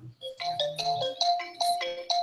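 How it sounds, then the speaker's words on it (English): A phone ringtone plays a bright, repeating electronic melody of quick tonal notes, loud and close with no talk. "you got a phone call or something?"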